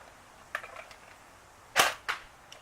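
A Frankenstein AK airsoft gun firing 0.2 gram BBs, giving a few sharp, close snapping shots with short gaps between them, then a fainter click at the end.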